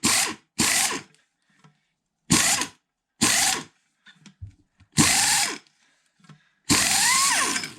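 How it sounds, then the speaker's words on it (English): Bolt being worked out of a vintage motorcycle fork with a power tool, in six or seven short loud bursts separated by near silence, with faint metal clicks between them. "I'm going to hold the fork extended completely and try to take the bolt out the rest of the way."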